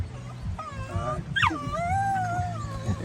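A dog whines and whimpers while performing tricks at a campground, close by, with rising and falling high-pitched wails and yips over a low background rumble.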